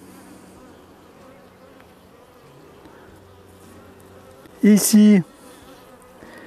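Honey bees buzz around an open hive at an apiary, a faint steady hum under a brief burst of nearby speech.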